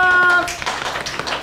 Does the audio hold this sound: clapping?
yes